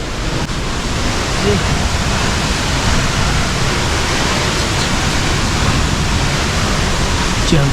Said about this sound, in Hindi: ये सामने देखो, ये इतना बड़ा वाटरफॉल है